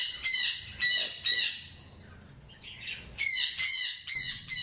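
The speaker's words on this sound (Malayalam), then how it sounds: "സൺകോണിയർ ഇനത്തിൽപ്പെട്ട തത്തയാണ്" A sun conure parrot squawks in loud, close, harsh shrieks, three quick calls, a short pause with softer chatter, then another run of repeated squawks.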